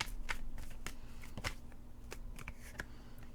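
Tarot cards being shuffled: a run of soft riffling flicks and slaps, close and quiet, spread over a few seconds with no talking.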